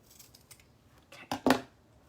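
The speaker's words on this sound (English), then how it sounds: "I always need to trim it because mesh, it does definitely fray. So I'm just going to trim the end." Scissors trimming the frayed end of wreath mesh for a beer-themed wreath, two quick close snips near the end with soft rustling before them, no voices.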